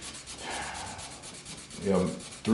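Fine 900 grit sandpaper rubbed over the plastic hull of a 1/350 Star Trek TOS Enterprise model kit, a soft continuous scratchy rasp with a couple of louder strokes near the end.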